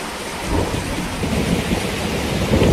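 Thunderstorm with steady heavy rain and rolling thunder, a dense loud roar filling the whole stretch with no voices.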